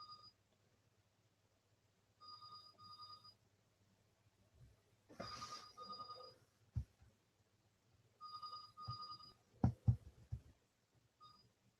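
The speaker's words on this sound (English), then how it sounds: "Sorry about this, the phone's ringing." A telephone rings in repeated double electronic trills, fairly quiet, interrupted by soft thumps and handling noises nearby.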